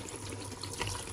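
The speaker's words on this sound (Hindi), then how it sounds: "1 लीटर पानी डाल दूंगी मैं।" Water poured into a pot while cooking chicken biryani, a steady, soft gushing splash heard briefly at low volume with no talking.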